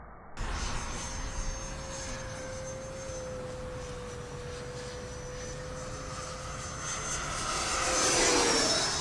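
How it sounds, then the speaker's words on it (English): A Freewing F-35 RC jet plane in flight gives a steady, thin whine that holds level and then swells louder near the end as it passes closer. "the body of this airplane sounds really neat, the way it sounds"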